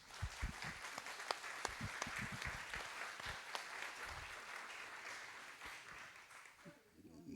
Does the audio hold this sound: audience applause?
yes